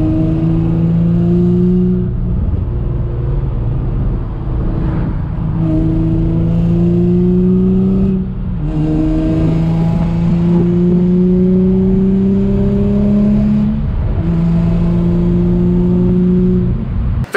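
Nissan G35 drift car fitted with a full Z1 exhaust, engine revved repeatedly in rising pulls with short drops between, loud and close with a deep rumbling tone, no talking.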